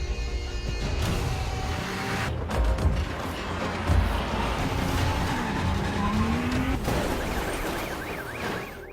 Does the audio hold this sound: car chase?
yes